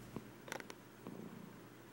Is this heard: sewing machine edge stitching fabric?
no